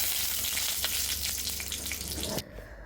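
Mustard seeds crackle and pop in hot coconut oil in a pan, a dense continuous sizzle with small bursts that cuts off abruptly near the end.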